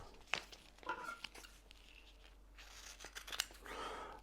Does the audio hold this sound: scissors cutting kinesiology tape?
yes